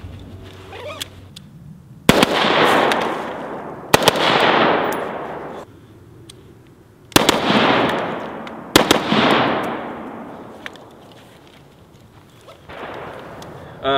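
Rifle gunshots from a Huskey Mark 1 sling transition demonstration ring out loud and close, five sharp cracks spaced a couple of seconds apart, each trailing off in a long outdoor echo, with no talking.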